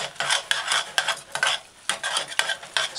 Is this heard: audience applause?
no